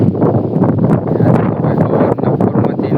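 Steady morning wind rushes and buffets close to the microphone outdoors, a continuous dense roar with small gusting swells and no talk.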